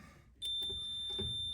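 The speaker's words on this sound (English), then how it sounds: "regardless of this thing beeping constantly" A steady high-pitched electronic tone, likely from a Harbor Freight multimeter testing the thermistor and thermal fuse of a Maytag 2000 series dryer, sounds continuously under quiet background clatter.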